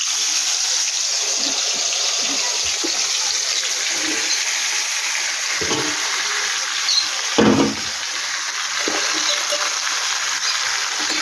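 Taro stolons (kachu lati) sizzle steadily in hot oil in a pan, a continuous bright frying hiss with a few soft stirring knocks and one louder clatter near the end.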